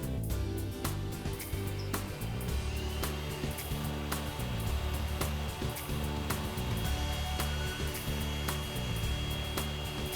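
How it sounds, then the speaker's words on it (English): A portable inflator drives air into two dunnage bags for cargo restraint, a steady loud motorized hum with repeating clicks and rattles running evenly throughout, with no talking. "connect both nozzles to the dunnage bag valves and start inflation."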